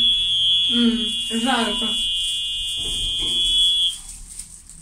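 A metro station lift in Novoperedelkino emits a continuous high electronic beep while its doors are held open, loud and steady for about four seconds before cutting off, with people talking over it.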